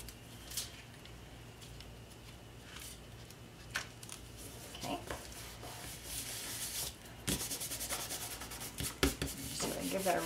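Foil rubbed onto a handmade card, heard as close, dry scrubbing and brushing strokes that come in uneven bursts and grow busier toward the end, with no voices.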